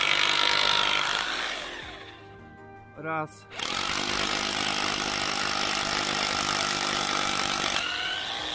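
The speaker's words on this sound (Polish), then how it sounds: "do tego wiercenia wziąłem sobie elektryczną wiertarkę" An electric corded drill bores into a concrete block for a fence, a loud grinding whine that breaks off briefly while someone speaks a single word, then resumes steadily.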